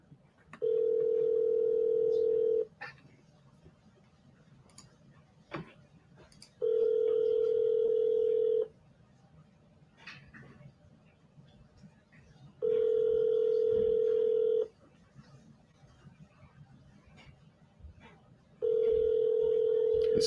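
An outgoing phone call rings through four evenly spaced two-second ringback tones, with quiet background noise and faint low voices between the tones.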